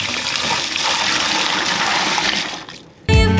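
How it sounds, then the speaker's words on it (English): Dirty cleaning water dumped out in a sustained, loud rushing gush that fades to near silence before music cuts in abruptly. "Look at the water. I'm about to dump it."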